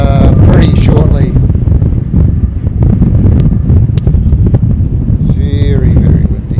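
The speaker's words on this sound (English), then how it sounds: "Very, very windy indeed." Strong wind buffets the microphone with heavy, continuous low rumbling, while a voice talks intermittently beneath the gusts.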